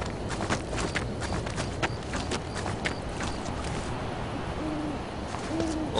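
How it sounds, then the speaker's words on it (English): An owl hoots softly in a forest video game, its low calls sitting over a dense bed of ambient forest noise, crackles and footstep-like thumps, steady throughout with no talk. "there's an owl"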